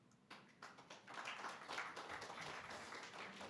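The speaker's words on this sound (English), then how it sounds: "we're going to keep that applause going" Audience at a global health conference applauding, a faint spread of clapping that starts in scattered claps and builds into a steady, even round.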